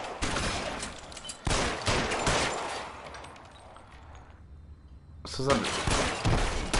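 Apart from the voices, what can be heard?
blind gunfire in L.A. Noire video game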